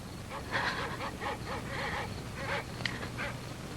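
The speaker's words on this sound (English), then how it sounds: "Those dreadful dogs. They sound so terribly" Dogs barking and howling out in the darkness, a series of distant, wavering yelps and howls over a low background rumble, with a sharp bark standing out near the end.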